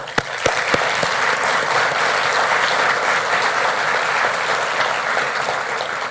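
A civic audience at a city's State of the Mayor address fills the hall with sustained, even applause, a dense wash of clapping that holds steady for several seconds after a few sharp early claps.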